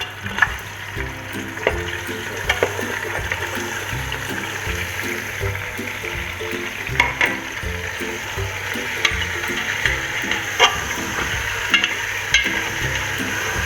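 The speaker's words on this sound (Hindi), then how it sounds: "इसको तकरीबन 10 से 15 मिनट फ्राई करना है। ताकि गोश्त अच्छा सा फ्राई हो जाए" Mutton pieces with added fat fry in a pot of hot oil for Peshawari namkeen gosht, a continuous crackling sizzle broken by occasional spoon scrapes and stirring clatters, close and steady with no talk.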